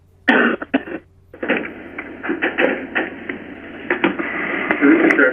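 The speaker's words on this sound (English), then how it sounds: "I keep coughing so much" A few harsh coughs and throat-clearing bursts come through a band-limited radio-like line, mixed with muffled bits of speech.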